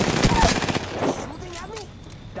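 Rapid gunfire bursts in the Apex Legends video game crack out in a quick fusillade in the first second, then fade into game sounds and trailing echoes.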